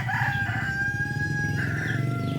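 Chickens kept in separate pens on a farm where rescued birds live: a rooster crows loudly and steadily, with clucking beneath, as the birds quarrel through the bars.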